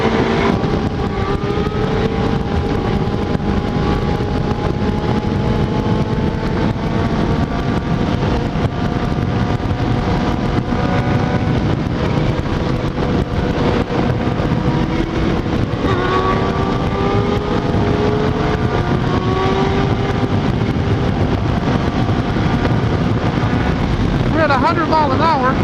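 A sport motorcycle held in a long wheelie at around 100 mph during a street drag race, its engine giving a steady, sustained drone with strong wind rush and faint shifting tones throughout.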